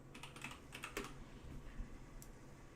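Quiet typing on a computer keyboard at a desk during digital character animation work, a quick, uneven run of soft key clicks heard alone, close and low in level.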